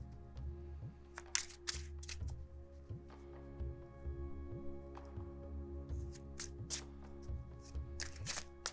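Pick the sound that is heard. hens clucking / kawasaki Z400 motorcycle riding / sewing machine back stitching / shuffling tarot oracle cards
shuffling tarot oracle cards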